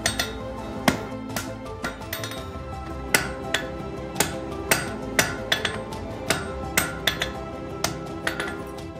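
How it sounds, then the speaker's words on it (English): A blacksmith strikes the ends of welded iron gate spikes with a hammer, producing a steady run of sharp, ringing metallic blows at a regular rhythm, close and fairly loud. "Nev continues hammering the ends together to form one central point."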